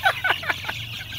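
Chickens on a backyard farm let out a quick run of four or five clucks, close and clear, fading slightly toward the end over a low background hum.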